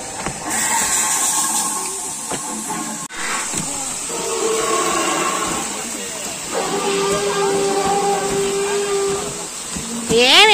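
Robotic dinosaurs at a Jurassic Park-style attraction beside a maize garden let out loud, drawn-out roars and groans in several long bursts, with people talking nearby.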